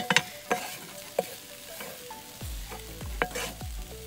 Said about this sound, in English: The sausage like sizzle.